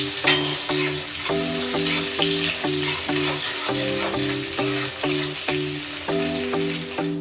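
Black cumin seeds, green chillies and onion fry in hot oil for a Bengali hilsa dish, giving a steady, even sizzle under rhythmic background music.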